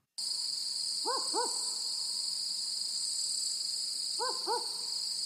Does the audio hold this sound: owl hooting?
yes